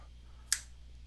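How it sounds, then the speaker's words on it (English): A single crisp finger snap, close and sharp, made over piles of playing cards during a card trick, standing alone against a quiet background hum. "I'm going to go ahead and snap my fingers over each pile"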